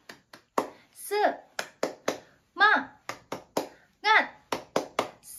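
Children do the tepuk semangat clapping chant: sharp, distinct claps in a quick rhythmic pattern, broken by short bursts of young voices chanting together, all close and loud in a small room.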